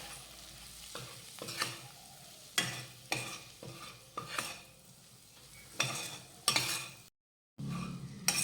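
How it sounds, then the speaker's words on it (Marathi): Gram flour stirred into spiced chilies in a pan, with repeated distinct scraping and clacking strokes of a spoon against the pan over a quiet sizzle, one brief gap of silence near the end. "आता यामध्ये घालूयात बेसन पीठ आणि बेसन पीठ घातल्यानंतर हे छान मिक्स करून घेऊयात"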